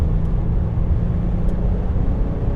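A 2016 Acura MDX SH-AWD accelerates hard, its engine a steady, loud, close drone with road noise beneath and no voices.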